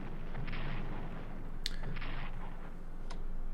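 A warship fires a shot in the World War I strategy game Strategic Command: World War I: a couple of short sharp bursts over a steady background hum, moderately loud, with no speech.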